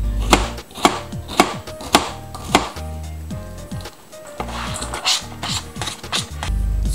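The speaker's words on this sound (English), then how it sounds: "I sharpened my knife with a whetstone 2 days ago, so it cuts very well" A sharp, freshly whetstone-honed knife chops bitter melon on a cutting board, striking in a handful of crisp, evenly spaced thuds up close, then settling into lighter, quicker cuts with brief pauses between.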